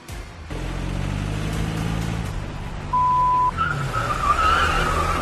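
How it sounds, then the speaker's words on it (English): Car tires screech as a vehicle pulls away in a reality TV scene, a loud engine rumble building into a shrill squeal near the end, with a brief beep partway through and no talking. "They totally had to add those tire screeching things though"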